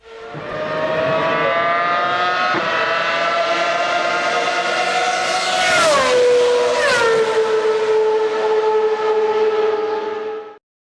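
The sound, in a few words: race car driving past, Doppler effect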